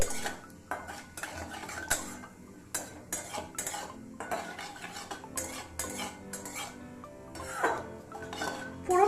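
Bay leaf torn in half and radhuni seeds fry in hot oil for Bengali dudh shukto, as a utensil stirs and scrapes the pan with repeated metallic clinks, sharp and close, with no talk.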